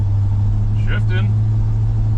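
A vintage Chevy C10 pickup, left sitting for 33 years and leaking from its heater core, drives along with a loud steady engine drone as it shifts gears. A brief voice sounds over the engine.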